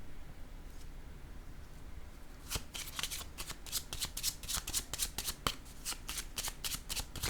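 A deck of playing cards is shuffled and handled during a French tarot or card reading, starting after a quiet two and a half seconds and then giving dense, rapid riffling and snapping strokes close by, with no talk.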